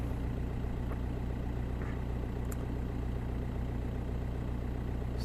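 A Volkswagen Golf 1.9 TDI diesel engine with a long-cranking, hard-starting fault idles steadily, a low, even rumble with a faint rhythmic pulse and occasional light ticks, no voices over it.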